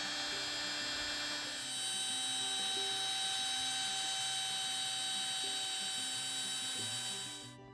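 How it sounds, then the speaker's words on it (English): A heat gun blowing over embossing powder on a painted craft photo frame, a constant high whine and fan drone with faint clicking underneath, running steadily before cutting off at the end. "I am going to hit this with a heat gun to set the embossing powder."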